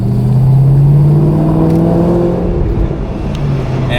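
Ford GT500 V8 with factory mufflers and factory headers, running on 93 octane: a loud, close, deep exhaust rumble that rises and falls as the engine is revved, with no voices.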